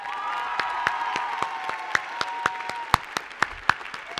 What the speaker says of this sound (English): A giant round of applause for, and I know she's going to kill me for this, Professor Kathleen Dunn